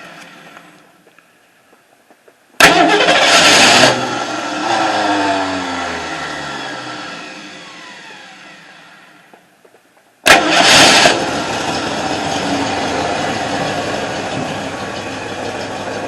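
A Mustang engine cranks and catches twice, each start followed by a loud, steady idle that slowly settles; no talking.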